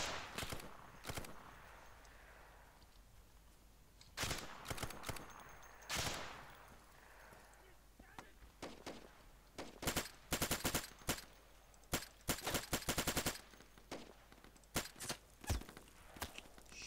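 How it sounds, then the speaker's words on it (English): Heavy gunfire in a combat game set above a building: sharp, loud bursts and rapid volleys of shots crack out repeatedly, clustering densely toward the end, with scattered footstep-like thumps between them and no talking. "I'm taking heavy fire."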